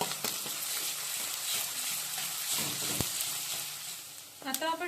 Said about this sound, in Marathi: आता ही आलं लसूण पेस्ट आपल्याला थोडीशी फ्राय करून घ्यायची